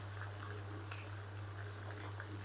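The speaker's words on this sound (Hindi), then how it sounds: "प्याज को ना हम तकरीबन 3 से 4 मिनट तक फ्राई कर लेंगे" Chopped onions fry in hot oil after garlic-ginger paste for a bhindi masala, giving a steady, soft crackling sizzle over a low constant hum.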